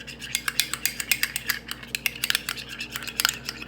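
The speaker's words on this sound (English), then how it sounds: "I'm going to take the spoon and mix it to a nice consistency" A metal spoon stirs mayonnaise and hot sauce in a bowl, giving a fast, uneven run of close clinks and scrapes against the bowl's sides.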